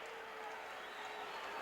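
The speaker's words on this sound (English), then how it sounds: "with his crowd roaring their approval" A wrestling arena crowd roars its approval for Tony Atlas, a dense, steady wall of cheering and applause that sounds distant and faint and does not let up.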